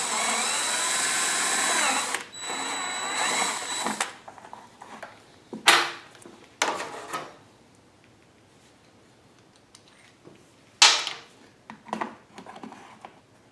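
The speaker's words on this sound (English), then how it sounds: "that's as far as I want to go with the step drill" A power drill with a step bit whines steadily for about two seconds drilling a hole for a fuel kit on a Power Smart 4500 generator, then stops, followed by several sharp metallic clatters and knocks at close range.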